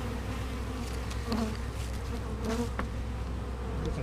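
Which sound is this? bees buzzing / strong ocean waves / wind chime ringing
bees buzzing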